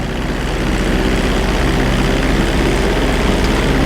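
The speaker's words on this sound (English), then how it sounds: "Hold the throttle all the way down to pick up speed, and pull back on the stick to take off." Propeller airplane engine at full throttle during takeoff in GTA 5 flight school, a loud, steady, droning roar with a low throbbing hum, unbroken for the whole stretch.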